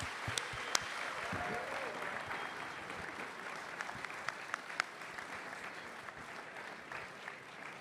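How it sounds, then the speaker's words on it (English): Audience applause for a panel at a CPAC Israel conference, a steady wash of clapping from a sizable crowd that holds evenly at moderate level throughout, with a few sharper individual claps standing out. "Let's give them a round of applause."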